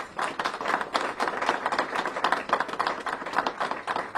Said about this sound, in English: Let's give Chief Aziz a round of applause.